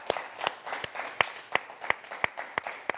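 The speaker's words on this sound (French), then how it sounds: "Je pense que ça s'applaudit." Sparse, uneven handclaps on a French-language show, a dozen or so sharp claps spaced irregularly, fairly close and thin rather than a full crowd.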